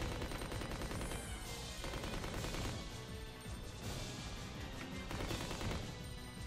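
Rapid, dense gunfire erupts as pistols fire repeatedly at a hunter creature in Resident Evil Code Veronica X, loud overlapping shots with crashing impacts throughout.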